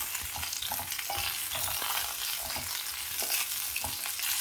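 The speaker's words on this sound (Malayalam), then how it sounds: "വഴുതനങ്ങ ഈ എണ്ണയിൽ നന്നായിട്ടൊന്ന് വാട്ടിയെടുക്കാം" Brinjal sautéing in hot oil in a pan, a dense continuous sizzle up close with soft, irregular stirring scrapes throughout.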